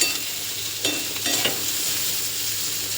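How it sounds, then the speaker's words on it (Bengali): Potato and bitter gourd fry in a pan with a soft, continuous sizzle, broken by a few scraping stirs close up. "চলো আলু উচ্ছে ভাজাটা দেখিয়ে নিই কতটা হলো"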